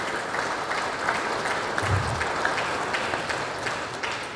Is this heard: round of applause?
yes